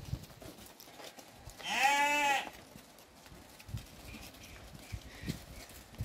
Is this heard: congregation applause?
no